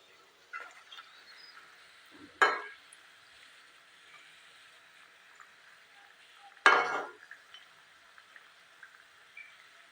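Biscuit dough frying in hot oil in a pan, a steady faint sizzle broken by two sharp clatters as the pieces are turned over, one near the start and one later.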